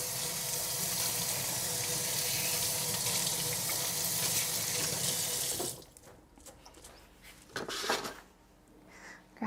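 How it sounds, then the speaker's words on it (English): Water runs from a kitchen tap as hands are rinsed, a steady, loud broadband rush that stops abruptly, followed by quieter scattered handling knocks and clatter nearby. "Let me just rinse my hands really quick."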